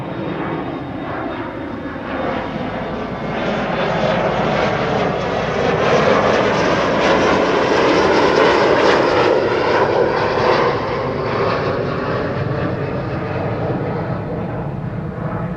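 An airliner departing Amsterdam Schiphol runway 24 for Warsaw builds into a loud, broad engine roar that peaks midway and then eases off slowly, heard alone.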